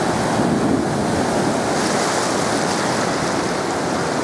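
Steady Mediterranean surf washing onto a beach in Haifa, Israel, a continuous broadband roar of waves with some wind buffeting the microphone, no voices.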